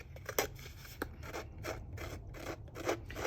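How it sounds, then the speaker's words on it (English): Scissor blades rubbed repeatedly across taut card paper to roughen it, a steady series of close, dry rasping scrapes, about a dozen strokes in a back-and-forth rhythm. "You want to make sure your paper is pretty taut so that it will accept the scissors."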